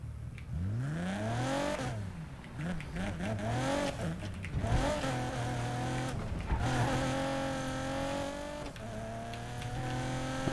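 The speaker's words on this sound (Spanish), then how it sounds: "Esto es mi nuevo auto, un Ford GT." A Ford GT in the racing game Need for Speed Payback revs and accelerates with rising engine sweeps and tire squeals, loud and continuous, shifting gears repeatedly throughout.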